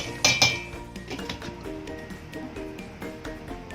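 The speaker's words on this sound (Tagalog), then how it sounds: "Then, just stir. Stir and cover it again and simmer for a few minutes." A spoon clinks against a cooking pot of beef in mushroom sauce as it is stirred and covered, a couple of sharp metallic clinks early on, then a quieter low bubbling simmer.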